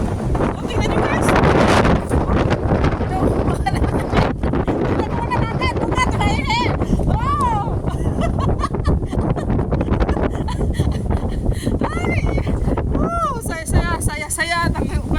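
Strong wind buffets the microphone outdoors in a continuous loud roar with gusty surges, while a person talks excitedly over it throughout.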